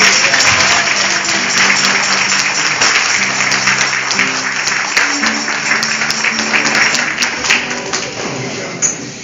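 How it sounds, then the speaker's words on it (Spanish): A church congregation claps loudly and steadily with a faint murmur of voices and sustained organ or keyboard tones underneath, fading slightly toward the end. "Un aplauso para"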